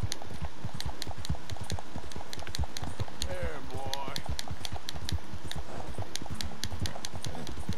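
Horse hooves gallop fast and steady in the Red Dead Redemption 2 video game, a dense rhythmic clip-clop running through the whole stretch, with someone talking over it.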